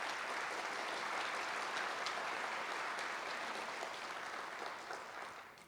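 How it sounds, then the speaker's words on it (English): Audience applause at a police department awards ceremony, a steady, dense clapping from a crowd that holds evenly for several seconds before beginning to thin out at the end. "So give them a round of applause, please."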